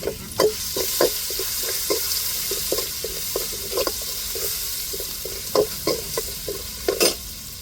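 Garlic fries in hot oil for beetroot rice, with a steady sizzle under repeated rhythmic scrapes of a spoon stirring the pan, loud and close.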